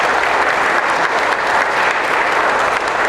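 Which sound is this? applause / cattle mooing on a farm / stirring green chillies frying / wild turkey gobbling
applause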